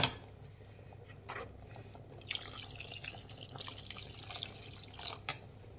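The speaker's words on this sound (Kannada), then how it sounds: "ನಾನೀಗ 1 ಗ್ಲಾಸ್ ಆಗೋಷ್ಟು ಮಾತ್ರ ನೀರು ಹಾಕ್ತೀನಿ" Water splashes and trickles into a cooking pot of methi chicken biryani, about one glass poured, a soft, quiet pour with a few louder drips and splashes near the end.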